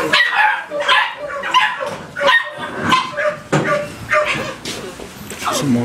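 Several dogs barking in repeated sharp bursts with yips and some whimpering, loud and close, an uneven rhythm of overlapping barks with a voice briefly audible among them.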